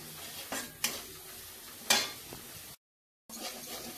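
A paste of poppy seed, cashew and tomato is stir-fried in a pan, with occasional spatula scrapes and knocks over a soft, steady sizzle, a brief silent gap near the end; no talking.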